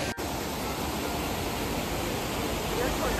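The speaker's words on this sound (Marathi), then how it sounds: "तर आम्ही आता माळशेज घाटामध्ये थांबलेलो आहे धबधब्याजवळ." Waterfall at Malshej Ghat roaring nearby in a loud, steady broadband rush that barely varies, with no clear voices over it.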